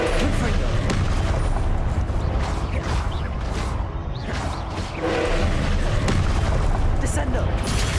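A Confringo blasting spell in Hogwarts Legacy sets off a string of booming explosions and crackling blasts, loud and dense throughout, with a player speaking over the game.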